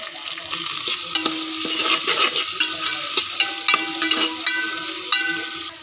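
Sliced onions, star anise, cloves, cinnamon and bay leaf fry in oil for Andhra-style country chicken biryani, with a continuous bright sizzle and repeated scraping stirs at a fairly even rhythm, close and clear.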